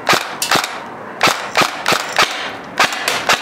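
A Helios Umbrella Corporation M4 SBR airsoft gun shoots BBs in a steady run of about a dozen crisp, snappy shots, close and loud, some in quick pairs, with no talking.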